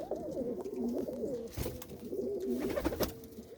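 A female pigeon coos in a steady, repeated warbling series, close and clear, with a brief soft break midway before the cooing resumes.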